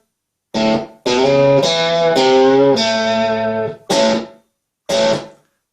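An electric guitar plays a riff slowly, with a handful of distorted, sustained notes and a final chord ringing out clearly with short gaps between phrases.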